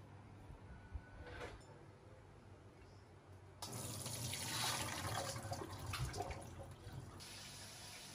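Soaking water is poured off glutinous rice, a quiet trickle that swells into a fuller rushing pour halfway through, then eases slightly toward the end.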